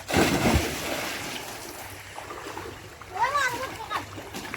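Someone jumps straight into an open village well: one sharp splash at the start, followed by rippling water and voices talking.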